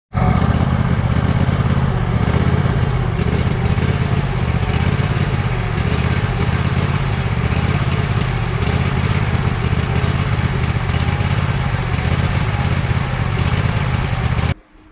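A small engine fitted with a cheap aftermarket knockoff carburetor idles roughly and lopes unevenly, a loud steady rumble that runs alone for about fifteen seconds before cutting off abruptly at the end.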